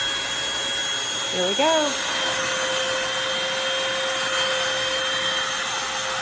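Eureka NES215A stick vacuum cleaner running on an area rug: a steady, close, loud whirring drone throughout. A person speaks briefly near the start.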